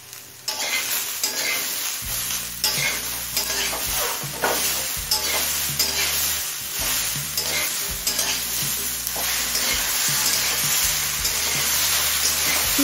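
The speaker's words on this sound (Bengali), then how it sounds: "চিংড়িটা দিয়ে মিনিট খানিক নাড়াচাড়া করে নিয়েছি।" Prawns and slit green chillies fry with mixed vegetables in a pan, a loud continuous sizzle with repeated scraping and clattering strokes as everything is stirred and tossed, close up and with no one talking.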